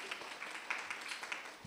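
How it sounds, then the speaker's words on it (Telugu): An audience in a Sunday church service claps together, a brief, steady patter of many hands at moderate distance. "చప్పట్లు కొడుతూ వారిని అభినందిద్దాం."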